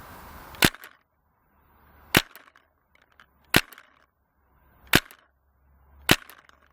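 Five sharp paintball marker shots fired at a target 50 metres away outdoors, each a loud, close pop followed by a short rattling tail, spaced about one and a half seconds apart with quiet between them.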